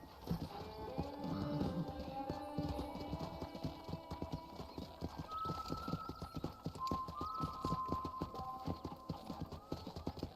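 Horse hooves clip-clop in a steady trotting rhythm while riding in the video game Red Dead Redemption, with occasional tack jingles and soft musical tones beneath.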